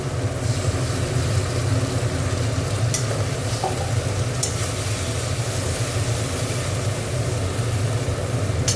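Green chili and tomato paste frying and being stirred in a pan, a steady loud sizzle with occasional scraping, no voices.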